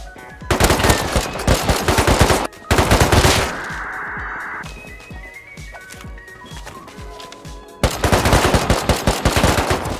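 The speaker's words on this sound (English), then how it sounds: "That guy just strafed the shit out of me." Automatic machine gun fire in the survival game Rust, long loud rapid bursts near the start and again at the end, with a quieter stretch between.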